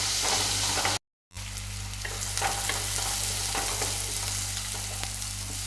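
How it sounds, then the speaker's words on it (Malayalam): Onions sauté in a pan for a kingfish curry paste, a steady close sizzle with occasional stirring scrapes, briefly cut to silence near the start, no voices. "ഐക്കൂറ കറിക്ക് വേണ്ടിയിട്ടുള്ള അരവുണ്ടാക്കാനുള്ള സവാളയാണ് ഞാൻ കൊഴുകി വഴറ്റുന്നത്"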